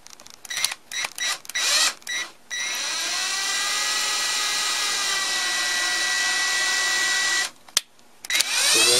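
An electric drill revs in a few short bursts, then whines steadily for several seconds while boring a hole for a Yamaha turntable dust cover hinge, stops, and spins up again briefly.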